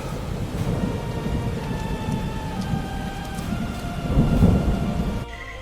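A thunderstorm over flooded savanna mud, with heavy steady rain on the ground and rolling thunder that swells loud near the end, with no voices.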